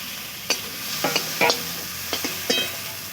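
Mustard frying in oil with chopped tomato in a pan for a Bengali fish and okra curry gives a soft, steady sizzle, broken by a handful of sharp scraping stirs of a spoon against the pan.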